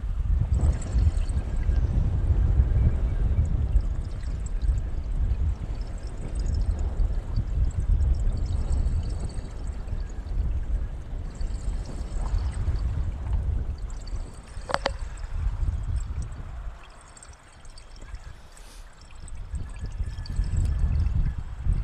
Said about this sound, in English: Oh, the waves are picking up more.